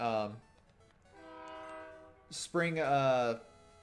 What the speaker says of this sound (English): shoutouts to the train that you can definitely hear right now